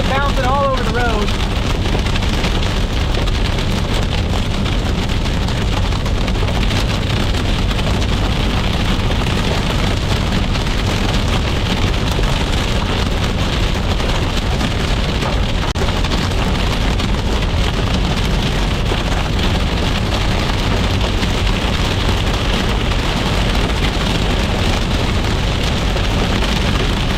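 Pebble-size hail and heavy rain pounding a road during an Iowa storm chase, a dense, steady, loud clatter and hiss that does not let up, with a faint vehicle rumble underneath.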